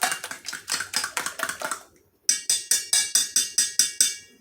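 Eggs beaten briskly in a bowl with a little soy sauce for a Chinese shrimp omelette, a fast run of close, regular clicking whisk strokes, a brief pause, then another steady burst.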